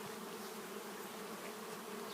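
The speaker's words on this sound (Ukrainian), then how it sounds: "бджола літає" Steady, droning buzz of honey bees in flight, close by and continuous with a slightly wavering pitch.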